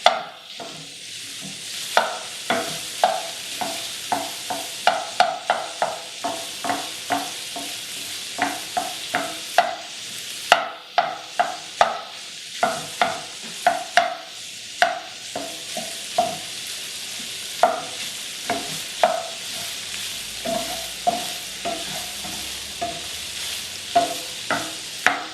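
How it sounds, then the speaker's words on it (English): Sausage sizzles steadily in a frying pan while a spatula chops and stirs it, giving a dense run of sharp scraping clacks over the constant fry, with no one talking. "keep chopping up that sausage and stirring it"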